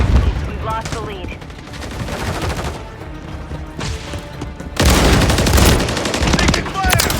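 Rapid gunfire rings out in a Modern Warfare 3 match with akimbo shotguns, loud bursts repeating in a dense stream. Game voice callouts and effects sit under it, and the firing grows heavier and continuous in the second half.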